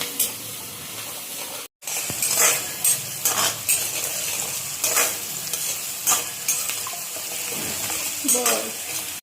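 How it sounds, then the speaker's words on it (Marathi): Chopped onions with green chillies sizzling and browning in a frying pan for tomato rice, with a continuous frying hiss punctuated by repeated scraping stirs of a spatula against the pan, close and fairly loud. "आता कांद्याला ना छान असं ब्राऊन होऊ द्यायचं."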